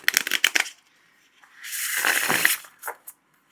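Tarot cards riffle and snap close up: a few quick flicks, then a longer rushing shuffle, followed by a couple of soft taps.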